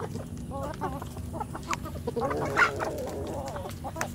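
Adult free-range kampung chickens clucking in a dedicated outdoor pen, several birds making short, overlapping clucks at close range with steady farmyard murmur beneath, a brief louder call near the middle.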